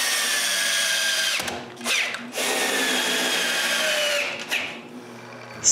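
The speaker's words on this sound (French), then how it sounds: "J'ai juste à tout visser ensemble maintenant." A power drill drives screws to join wooden parts of a woodturning tool sharpening station: a loud, steady whirring whine held for long stretches, broken by two short pauses and pitch changes as screws seat.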